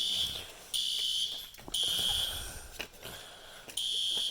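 A fire alarm activation device blares in repeated loud bursts of a piercing electronic tone, broken by short gaps and clunks as the unit is handled and reset.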